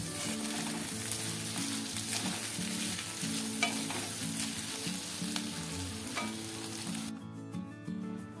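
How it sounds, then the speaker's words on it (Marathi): Ivy gourd stir-fries in a pan, sizzling loudly and continuously as it is turned, with frequent scraping and clinks from the spatula and a low tonal hum underneath; the sizzle cuts off abruptly near the end. "त्यामुळे आणखी आपण इथे हिला लालसर रंगावर परतून घेणार आहोत।"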